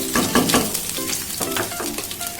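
Ingredients for tomato chutney fry in a pan with a close, steady sizzle and a few clinks and scrapes of stirring, without any talk.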